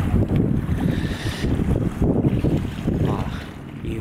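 Bass boats out on Lake Biwa, a steady rumble of distant motors mixed with wind buffeting the microphone and lapping water at the shore.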